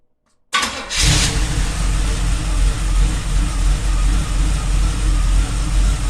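A car engine cranks and fires after a moment of silence, then keeps running loud and close with a rough, rumbling idle and slight revving swells for several seconds.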